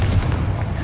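In Hogwarts Legacy, the Confringo explosive spell fires as a brief, muffled booming thump with a low rumbling body, heard up close and alone.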